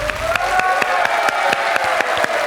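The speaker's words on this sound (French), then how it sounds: "Je vous demande une véritable ovation pour Christophe." Studio audience on a French television quiz show applauding the champion Christophe in a steady, dense ovation, sharp claps scattered through a continuous wash of hands, loud and close, with no voices over it.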